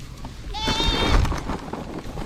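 Goats bleat at a farm, a wavering call rising mid-clip over rustling and background noise, fairly close and moderately loud.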